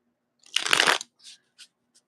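Tarot cards shuffled close up in one quick riffling burst, followed by a few light taps as the deck settles, with no talking.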